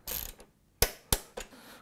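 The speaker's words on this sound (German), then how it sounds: "Die Schrauben mit 40 Newtonmeter anziehen." A ratchet tightens engine mount bolts to torque, sounding as a few sharp, close clicks in a quick irregular series after a brief rasping start.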